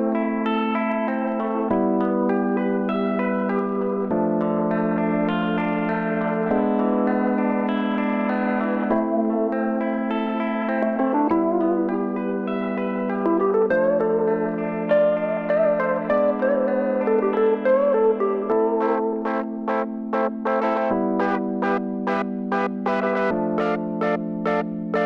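Electric guitar run through effects such as distortion, chorus and echo plays sustained chords over a synth pad in a Bitwig arrangement, with no drums; near, loud and steady throughout, with choppier strummed accents toward the end.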